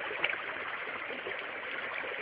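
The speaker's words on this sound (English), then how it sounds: "The water was running a little fast today" Fast-running stream water rushes in an Ohio creek at high water, a dense, steady hiss of churning flow without a break.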